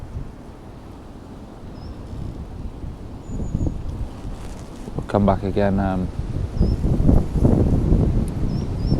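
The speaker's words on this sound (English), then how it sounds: "That wind, that storm's starting to pick up again now" Gusty storm wind roars and buffets the microphone beside a small brook, with rumbling low noise as someone speaks briefly over it.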